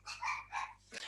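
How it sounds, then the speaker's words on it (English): Several dogs bark indoors, a few short, fairly faint barks in an uneven rhythm heard in the background of a quiet room. "Hopefully my dogs will settle down."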